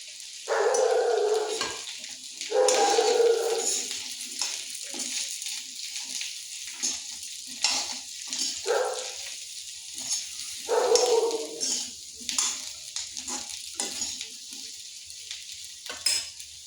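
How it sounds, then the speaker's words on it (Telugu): Fried soya chunks (meal maker) stirred with onion and capsicum in a pan, bursts of sizzling and scraping spoon strokes separated by quieter pauses, close and moderately loud. "ఇప్పుడు మనం ఫ్రై చేసి పెట్టుకున్న మిల్లిమిక్కర్ వేసుకొని కలిపేసుకోండి ఒకసారి"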